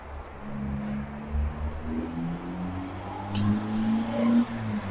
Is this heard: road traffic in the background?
yes